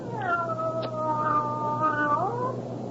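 A cat lets out one long, drawn-out meow that wavers and rises at the end, close and clear for about two seconds over a low background hum, with no speech.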